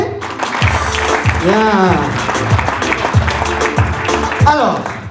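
An audience claps steadily at the official launch of a business leaders' club in Morocco, with a speaker's voice talking over the applause throughout.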